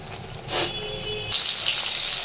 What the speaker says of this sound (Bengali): এই দেখো বেগুন ভাজা বসিয়েছি, সাদা তেলেই করছি